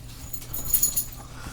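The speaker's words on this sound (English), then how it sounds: "what you itching at, puppy?" A puppy whimpers softly in a few short, faint bursts, mixed with rustling as it wiggles and scratches nearby.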